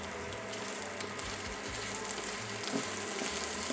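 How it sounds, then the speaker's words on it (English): Prawn heads fry over moderate heat in a pan, giving a steady, close sizzle with faint crackles throughout and no talking. "Next stop, prawn heads. Moderate heat, otherwise they'll become bitter."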